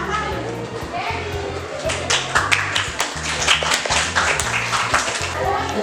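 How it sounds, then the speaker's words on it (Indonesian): Children in a classroom clap together in a lively burst of applause for a social studies lesson on reforestation, steady and busy throughout with some chatter mixed in. "Tepuk tangan yang sangat luar biasa."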